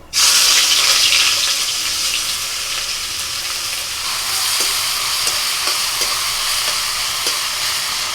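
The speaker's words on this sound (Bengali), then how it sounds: "কড়াইতে সাদা তেল দিয়েছি সর্ষের তেলও করতে পারে আমি সাদা তেলে করছি এবার দিয়ে দিচ্ছি পেঁয়াজ কুচি" Chopped onions hit hot white oil in a wok with a loud burst of sizzling that settles into a steady, crackling fry with occasional stirring scrapes.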